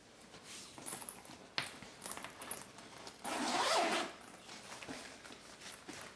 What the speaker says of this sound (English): they each have that zippered pocket right here on either side of the bag